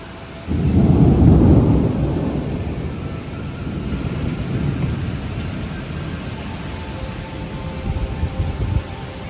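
Heavy rain bursts in with a loud rumble of thunder, a dense close roar that swells early then settles into a steady downpour, heard at night at a petrol pump with no voices.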